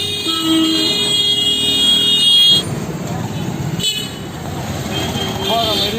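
A car passes along a village road and sounds its horn in short toots over a busy outdoor background, with people talking throughout nearby.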